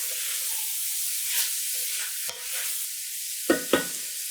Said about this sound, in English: Just give it a little stir so it starts to pick up all those flavors